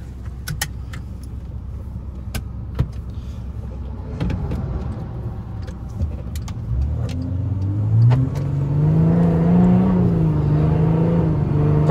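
A Volkswagen Amarok V6 pickup drives on a highway. There are small cabin clicks and rattles at first, then an engine note that rises steadily as the truck accelerates and grows louder toward the end.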